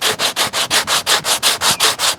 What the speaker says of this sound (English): I'm going to keep sanding here